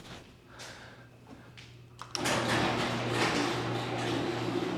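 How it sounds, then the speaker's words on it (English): A garage door in a home garage starts moving after a couple of small clicks, then a steady loud mechanical rumble and hum of the closing door continues to the end. "Let me close the garage door."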